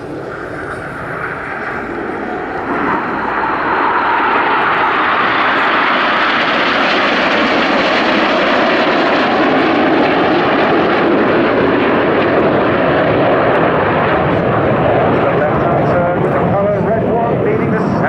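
Red Arrows jets at the Royal International Air Tattoo 2019 fly past during the synchro pair's display manoeuvre. A loud, broad engine roar swells in within a few seconds and holds steady while an announcer speaks over it.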